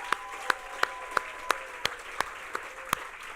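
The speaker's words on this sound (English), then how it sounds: "please give Ozzy a huge round of applause" A youth leadership forum plenary audience claps in sharp, evenly spaced beats, about ten claps in a slow steady rhythm over a quiet room background.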